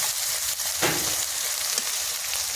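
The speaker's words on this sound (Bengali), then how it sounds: "ভালো করে ভেজে নেব" Ginger-garlic paste and tomato paste fry in hot oil for a Bengali fish curry (macher jhal), giving a steady close sizzle with a brief stirring scrape.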